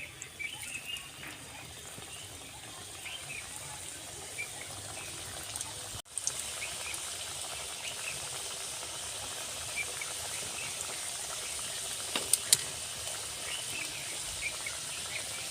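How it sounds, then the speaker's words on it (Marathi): Homemade bhakarwadi snacks deep-fry in hot oil over a low flame, a steady soft hiss and fine crackle throughout with a few faint clinks, no voices. "आपण याला कमी जाळावरच तळून घ्यायचं आहे मंद जाळावर"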